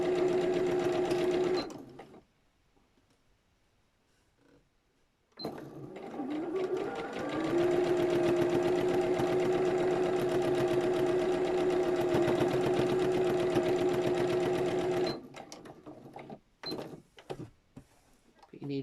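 Sewing machine stitching a zipped top bag, running in a long steady whirring burst after a brief start and short pause, then stopping with a few clicks.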